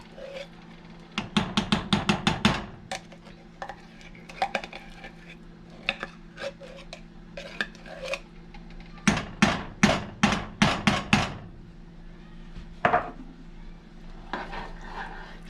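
Tomato paste scraped from a whole can into a pot of homemade chili, heard as two bursts of rapid knocking and tapping of a spoon against the can and pot, with softer scraping and clatter between.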